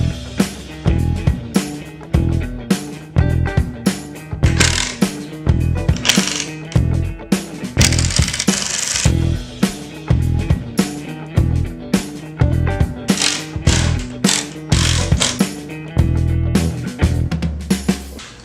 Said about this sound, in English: That way when I put in pocket hole screws